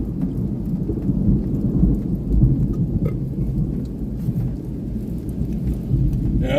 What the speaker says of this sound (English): that storm has moved east big time